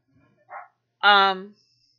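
A single dog barks once, loud and fairly close, preceded by a brief softer yelp, in a rural home.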